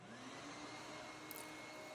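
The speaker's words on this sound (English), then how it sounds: "now we let the noise begin because we're going to be turning the vacuum cleaner on" A shop vac vacuum cleaner runs during wet concrete cutting, giving a steady, faint whining hum throughout with no clear start or stop, and nobody speaks.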